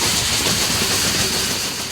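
Cumbres & Toltec Scenic Railroad historic steam train running, a steady broadband rumble and hiss of the moving cars filling the scene at close range, continuous and loud with no talk.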